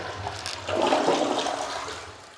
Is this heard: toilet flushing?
yes